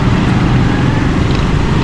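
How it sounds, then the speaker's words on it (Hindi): Traffic jam on a rain-flooded road in Karachi: a dense, loud wash of idling and crawling engines and road noise, continuous with no pauses. "बारिश का पानी रुका हुआ है, जिसकी वजह से जो है ना ट्रैफिक जाम हुआ है।"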